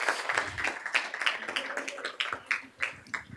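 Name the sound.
round of applause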